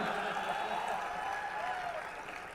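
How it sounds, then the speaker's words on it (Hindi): Sustained audience clapping fills a Hindi poetry recital hall, a steady, even wash of many hands heard from a middle distance that stays level throughout. "तुम ताली देर से बजाते हो यार"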